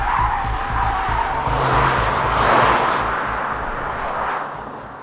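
A Cupra Leon, a 1.5 eTSI or a 2.0 TSI, laps a race circuit with a loud, steady engine roar and rushing tyre noise. Tyres screech and skid through a corner, the sound swelling mid-run before easing off.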